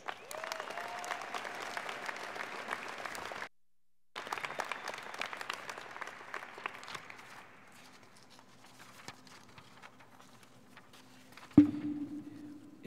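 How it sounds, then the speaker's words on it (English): Graduation ceremony audience applauding graduates, a sustained crowd clap that briefly cuts out, resumes, then thins and fades to scattered claps before a sharp thump near the end. "Please join me in a round of applause for our graduates."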